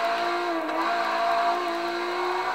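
A LaFerrari accelerating off the line in the video game Forza 6, its engine note climbing steadily in a continuous high-pitched whine that stays loud and close, with no voices.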